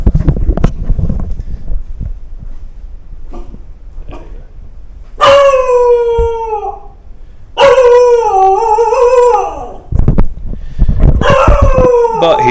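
Reactive dog barking and then breaking into long, wavering howls, loud and close, with several drawn-out howls separated by short pauses after some initial barks and thumps.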